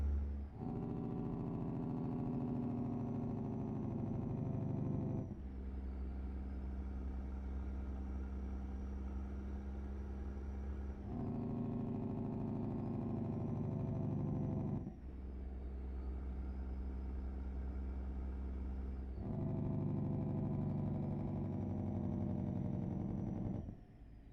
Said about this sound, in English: Let me kick on the engine brake so you can hear that a little bit.